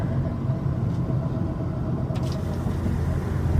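An 8th generation Honda Civic Si cruises casually in fourth gear through a small town, heard from inside as a steady low engine drone and road rumble, with no talking.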